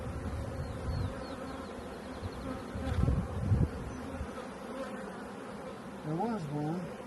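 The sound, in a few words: bees buzzing at a hive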